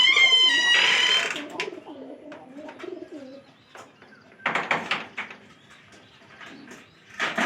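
Pigeons on a home pigeon farm give a few soft, low coos close by, mixed with rustling, wing flaps and knocking sounds, in brief bursts with quiet gaps.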